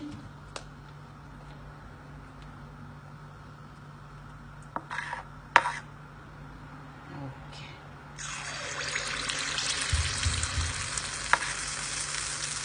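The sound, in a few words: batter frying in sesame oil in paniyaram pan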